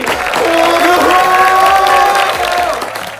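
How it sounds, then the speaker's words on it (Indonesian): Students at a high school concert cheer and clap loudly, whoops and shouted voices rising over dense applause before tapering off. "Mari kita beri tepuk tangan yang sangat meriah untuk pembuka dari konser hari ini."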